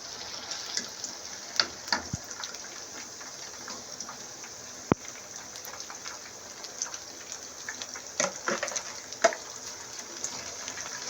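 Cauliflower fries in a pan of hot oil, giving a steady fine sizzling crackle with scattered sharper pops, close and even throughout, with no voices.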